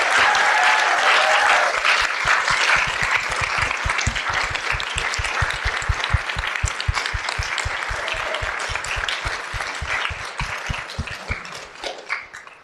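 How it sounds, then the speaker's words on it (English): Steady, full applause from an audience fills a presentation hall, with a few individual claps standing out and the clapping gradually thinning toward the end. "Let's give them another round of applause."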